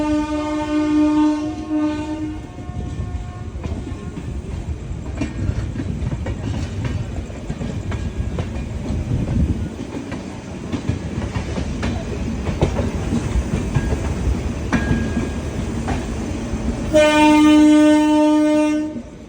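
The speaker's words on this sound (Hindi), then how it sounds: "और सामने पैरेलल डिपार्ट हो रही है हल्दिया आनंद विहार।" Haldia–Anand Vihar train departing on a parallel track, a loud horn sounding at the start and again near the end, with heavy wheel rumble and clatter rolling steadily between the blasts.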